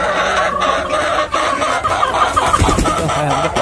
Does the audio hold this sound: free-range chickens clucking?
yes